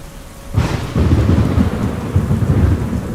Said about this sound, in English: It was the flash and cannon-like report of a nearby lightning strike